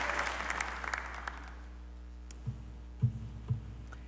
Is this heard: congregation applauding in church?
yes